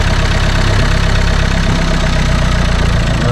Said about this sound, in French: Le régime se restabilise.